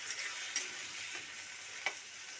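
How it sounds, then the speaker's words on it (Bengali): A spice mixture with whole cumin, already fried in a pan for a paneer dish, sizzles steadily at close range as a little water goes in, with a few brief sharper hisses and spits. "অল্প একটু জল দিয়ে দিচ্ছি।"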